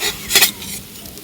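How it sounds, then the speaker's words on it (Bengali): A jaggery pitha fries in a little hot oil, with a soft sizzle and a short scrape of a utensil against the pan in the middle. "পুনরায় কিন্তু ওইভাবেই ভেজে নেব"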